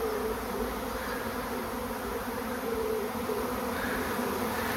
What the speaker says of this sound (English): had a very large swarm enter it.